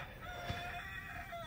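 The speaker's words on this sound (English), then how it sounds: "So don't really understand why you want a rooster." A rooster kept on a neighbouring property crows once, faint and somewhat distant, over quiet background noise.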